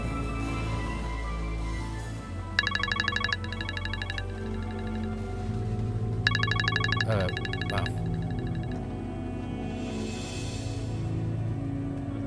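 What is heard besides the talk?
phone ringing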